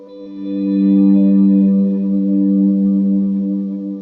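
Ambient electric guitar swell fed through stacked delays, El Capistan leading, fading in gently and holding a sustained, shimmering chord with washy echo tails, steady and fairly loud with no voices.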